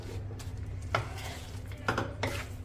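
Jaggery, coconut, seeds and raisins stirred together in a pan for Sindhi jaggery laddoos over an unlit stove, giving a few scattered scrapes and clinks of a spoon against the pan over a low steady hum.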